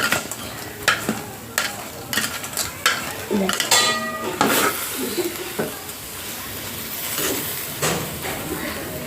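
A spoon scrapes and clanks against a curry pot as fried kaliya and potatoes are stirred together, with rhythmic metallic knocks over a soft sizzle and brief faint voices in the background.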